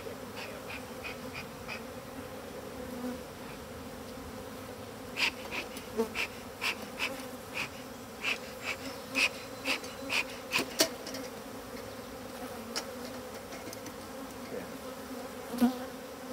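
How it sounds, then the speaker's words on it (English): Agitated bees buzz steadily in a dense, continuous drone during a hive opening with a smoker, with sharp clicks and taps scattered over it and a brief murmured voice. "A lot of hot bees"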